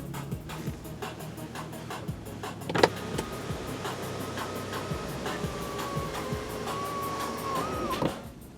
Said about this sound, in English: The front portion does open up like a regular moonroof